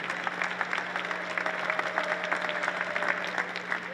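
An audience claps warmly for a round of applause, dense crowd clapping in a room with a steady low hum beneath, sustained at even strength across the whole stretch.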